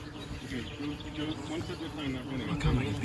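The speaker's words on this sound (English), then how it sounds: "Come here and listen to the bees." A low, steady buzzing of many bees hums close by, with faint voices and a few distant bird chirps in the background.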